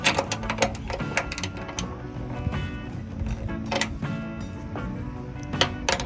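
A stud being torqued down on a 2016 Ram tailgate: close, steady mechanical clicking and rattling from the wrench work, with sharp ticks scattered irregularly over a continuous metallic grinding texture for several seconds.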